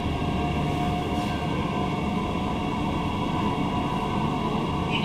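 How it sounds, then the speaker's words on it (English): Steady interior rumble of a Queensland Rail SMU 220 series suburban multiple unit running between Fortitude Valley and Central in Brisbane, a constant loud low drone with a faint whine and no talk. "This is a Brisbane City and Ipswich train."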